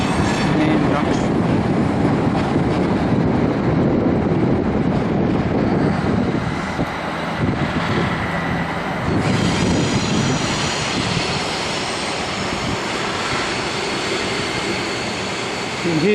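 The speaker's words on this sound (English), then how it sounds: "You can hear the disadvantage of having sharp curves on a railway system because it caused a lot of squealing noises" A train runs through sharp curves among rail junctions near Adelaide, with a steady rumble of rolling wheels and a high thin squeal riding above it, sustained throughout at moderate distance.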